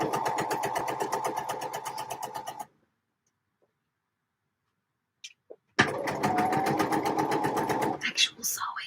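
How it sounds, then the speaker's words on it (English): A sewing machine stitches fabric for a lemon-print dress in a fast, steady run of needle strokes, stops for about three seconds, then starts again with another close, even burst. "Actual sewing."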